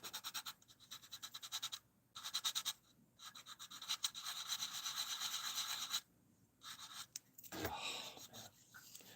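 Wood is worked over by hand with 220 grit sandpaper, giving repeated rough scratching strokes in quick back-and-forth bursts separated by brief pauses, close and fairly quiet.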